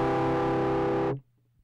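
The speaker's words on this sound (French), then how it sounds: "avec distorsion" Electric guitar plays a power chord through distortion, one thick, buzzing sustained chord held for just over a second and then cut off sharply, heard alone.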